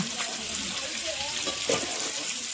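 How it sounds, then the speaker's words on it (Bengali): Potatoes frying in oil hiss and crackle steadily close by, with a few small sputters and stirring scrapes rising above the sizzle. "এদিকে আলু ভাজা শুরু হয়ে গেছে"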